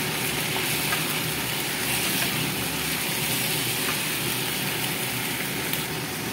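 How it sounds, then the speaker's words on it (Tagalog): Chicken and oyster mushrooms stir-fried in a wok give a steady, even sizzle that holds at a moderate level throughout, with no one talking. "Then, stir fry again po."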